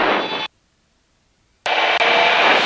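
Light aircraft engine roaring at full power for takeoff on a choppy day with a southerly wind; a loud, steady broadband drone cuts to silence partway through, then resumes just as strong.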